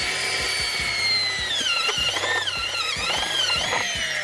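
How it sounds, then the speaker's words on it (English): A Milwaukee close-quarter power drill whines loudly and close, revving in repeated bursts as it bores through a car's metal firewall, the pitch dipping and rising with each push. "This is a Milwaukee close quarter drill."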